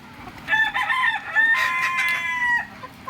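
A rooster among two-year-old laying hens in a fan-cooled coop lets out one long, strained crow lasting about two seconds, bracketed by brief hen clucks, close and loud with no talk.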